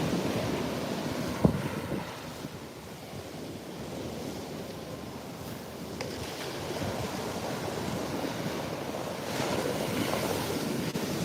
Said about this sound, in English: I just love watching the power of these waves too